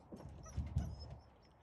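Young bicolor puppies give a couple of soft yelps and whimpers close by, brief low bursts over a quiet background, with no talk.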